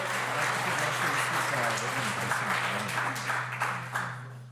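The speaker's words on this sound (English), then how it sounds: "How about a big round of applause for Mr. Travis Spyglass?" Conference audience giving a speaker a round of applause, dense steady clapping with voices mixed in, tapering off near the end over a low electrical hum.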